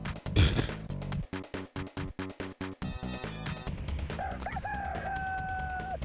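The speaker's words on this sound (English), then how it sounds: "I just heard a rooster" A rooster crows in the Lillehammer '94 Winter Olympics video game, a loud, clear synthesized cock-a-doodle-doo that comes after a run of rhythmic game beeps and plays over tonal game music.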